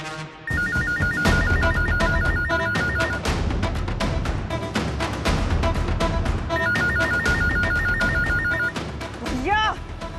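A telephone rings loudly with a repeating electronic bell pattern, heard in two bursts under busy dramatic background music from a Hindi television serial scene.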